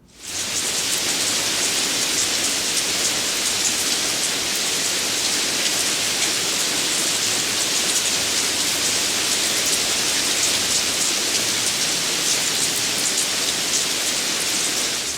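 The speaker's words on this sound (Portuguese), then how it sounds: "Esse som que você está ouvindo aí é o som da chuva." Steady rain pours down evenly for the whole stretch, a dense hissing wash with no breaks and no voices.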